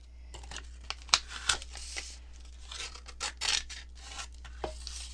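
Paper folded and creased for a junk journal pocket: close, intermittent rustles, crinkles and sharp scrapes as the paper is handled and pressed flat, with no talking.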